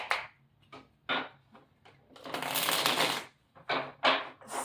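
Tarot cards are shuffled by hand close up, a few short riffles and taps followed by a longer continuous riffling shuffle.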